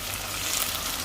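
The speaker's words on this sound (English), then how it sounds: "It's still sizzling, isn't it?" Tomatoes sizzling in a hot frying pan with aubergine, a steady loud hiss of frying throughout with no talking.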